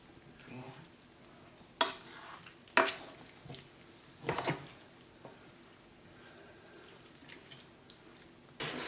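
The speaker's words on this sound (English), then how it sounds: "Get our wooden spoon, just give that a really good mix around." A wooden spoon stirs a Cambodian street-style veggie curry with lemon juice, coriander leaf and fish sauce in the pot, giving a few wet scrapes and clacks against quiet sizzling and liquid sloshing.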